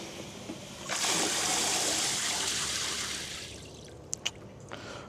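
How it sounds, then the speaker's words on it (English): Water gushes steadily from an outdoor tap, a loud broadband rush that starts after a second, holds, then fades and thins toward the end, with a few faint clicks and no talk. "go turn off my water before I go overflowing here"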